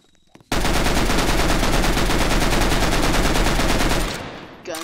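Video game gunfire: a sustained, very loud machine-gun burst of rapid, evenly spaced shots lasting about three and a half seconds, then tapering off with a short trailing sound.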